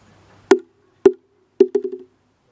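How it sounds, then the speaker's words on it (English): Sharp, hollow knocks from a seki, two hollow mithun horns beaten together, from Mizoram, ring out in a sparse pattern: two single strikes, then a quick accelerating cluster of clacks, close and dry with no voices. "It produces sound by beating two hollow Mithun's horn."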